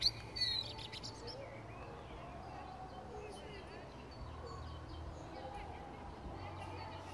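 A bird sings in Spånga cemetery in Stockholm, giving faint high chirps over soft outdoor ambience, with someone speaking quietly over it.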